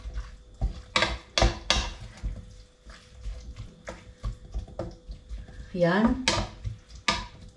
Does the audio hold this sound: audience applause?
no